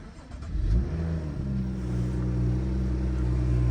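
A BMW 4 Series engine cold start: it cranks and catches, revving briefly before settling into a steady, loud low rumble close by.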